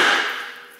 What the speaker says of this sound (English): So now we'll get a little hammer, tap on the face of it.